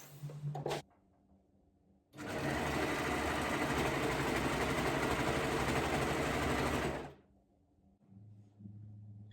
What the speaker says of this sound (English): Now I am using a serger or an overlocker